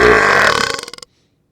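A storyteller's voice imitates a loud, close burp: one long rumbling belch that breaks into a rapid run of fading glottal pulses before stopping abruptly, with no other talk around it.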